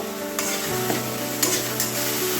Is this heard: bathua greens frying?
yes